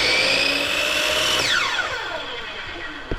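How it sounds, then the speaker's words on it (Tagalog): Powerhouse miter saw blade spinning up quickly with no soft start, a loud whine that sweeps and fades as it winds down, ending with a short click. "We'll try to test this miter saw given to us by Powerhouse."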